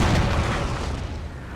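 A cannon fires on high ground during a battle in the Napoleon Total War video game, a single deep, loud boom with a long rolling rumble that slowly fades.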